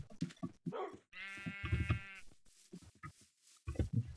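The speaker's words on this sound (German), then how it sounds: "Da sind 2 Schafe." Sheep bleating in the video game Minecraft, one clear wavering bleat standing out near the middle, set among muffled game sounds and faint voice-like noises.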